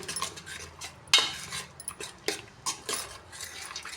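Metal utensil scraping and clinking against a pot while stirring tamarind rice with turmeric powder, in irregular strokes, close up, with a sharper clank partway through.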